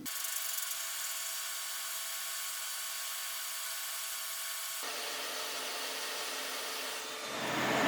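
A hot air rework station blowing at 470 degrees Celsius and 99% airflow over a circuit board, a steady close hiss of rushing air that holds evenly and shifts tone near the end.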